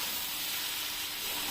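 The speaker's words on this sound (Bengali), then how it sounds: "এই যে এবারে নেড়ে চেড়ে নেব।" Fried rice sizzling steadily in a hot pan with cashews, raisins and sugar added, being stirred; a continuous close hiss of frying with no talking.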